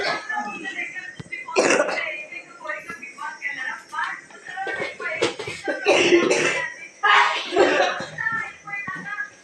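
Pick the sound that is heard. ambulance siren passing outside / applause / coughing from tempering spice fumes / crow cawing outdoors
coughing from tempering spice fumes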